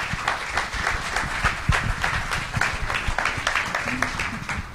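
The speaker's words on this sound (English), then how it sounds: "Give them a round of applause" Audience at a marketing conference panel applauds the panelists, a dense patter of clapping with some faint voices mixed in, sustained for several seconds.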